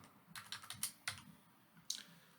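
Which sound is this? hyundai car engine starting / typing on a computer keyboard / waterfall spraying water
typing on a computer keyboard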